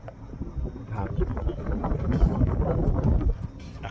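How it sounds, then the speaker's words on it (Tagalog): Strong gusty wind buffets the microphone with a low, rough roar that swells and fades over a few seconds. "Lakas ang hangin."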